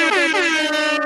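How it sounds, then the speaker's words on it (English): A single sustained blast of an air horn, loud and close, holds steady for about a second with a bright, brassy tone and no talking over it. "I gotta get the air horn."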